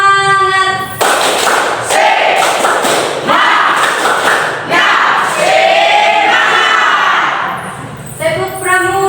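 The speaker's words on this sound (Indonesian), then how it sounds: "tepuk semangat" A school group at SMA Negeri 3 performs the tepuk semangat clapping chant, a loud run of rhythmic claps and thumps with shouted group voices over about seven seconds, bracketed by a speaking voice.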